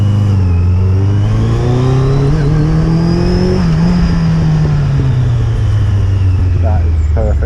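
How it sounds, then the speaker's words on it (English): Yamaha XJ900S Diversion motorcycle idling and revving through a Remus exhaust, a steady low burble that swells and eases, close and loud throughout. "A little bit of a burble from that lovely Remus exhaust."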